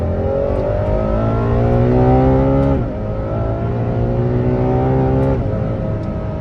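A Ferrari engine revs hard under acceleration at roughly a quarter throttle, its rising harmonic whine climbing steadily, dipping briefly at a shift and climbing again, loud and close throughout with no talking.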